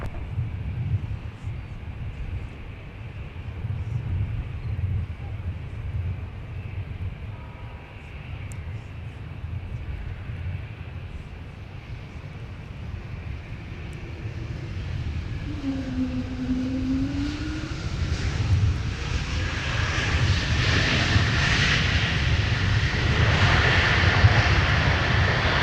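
A Delta airliner takes off at Minneapolis–St. Paul airport, its jet engines a broad, steady roar that swells toward the end, heard from a distance outdoors with some wind noise.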